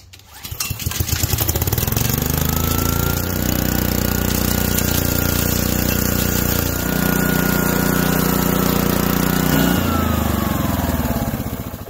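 A Keene RC1 petrol-engine rock crusher runs steadily and loud for nearly the whole stretch after starting up, its engine note shifting slightly in pitch as it works crushing ore during gold prospecting.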